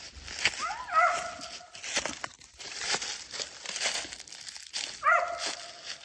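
Out in the woods, a dog gives two brief, faint whining yelps several seconds apart, under the crunch and crinkle of footsteps through dry leaves.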